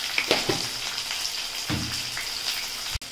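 Shallots, garlic and curry leaves fry with a little salt in a home kitchen pan, giving a steady close sizzle with a few stirring knocks and clicks and no voices.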